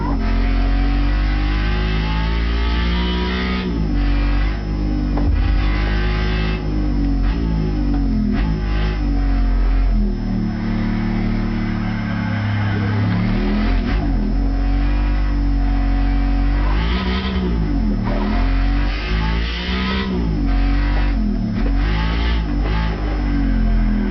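An Audi R8 engine in the Gran Turismo 5 Prologue racing game revs and climbs through the gears continuously, loud and sustained, with repeated rises and drops in pitch as it shifts.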